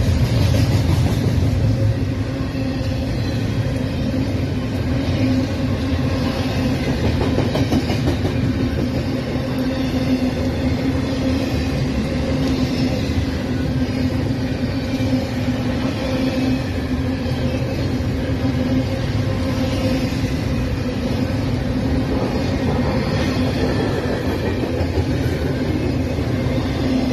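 A freight train rolls past at Fullerton with a steady, continuous rumble and wheel noise that holds evenly for the whole stretch, close and unbroken, with no talk.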